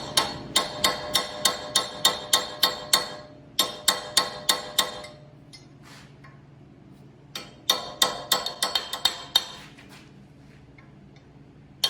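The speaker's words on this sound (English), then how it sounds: "you can use a chisel and get it between the cap and the hub" A hammer strikes a chisel wedged between the hub cap and hub of a Toyota 4Runner front axle, sharp metallic blows in quick rhythmic bursts, a pause, then another run of rapid strikes, close and loud.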